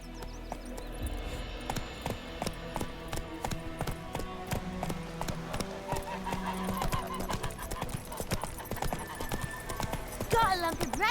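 Roach the horse running in The Witcher 3, a steady rapid clip-clop of hooves close by, with game music and voices speaking over it.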